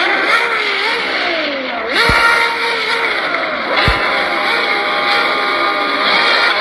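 A supercar engine drones loudly and continuously, its pitch rising and falling in repeated revving sweeps, with two brief low thumps along the way and no talk.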